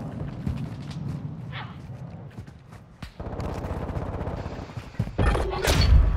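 Gunfire in Call of Duty Warzone on Ashika Island: sharp shots and rapid volleys crack out, some distant and some close, growing louder and denser toward the end.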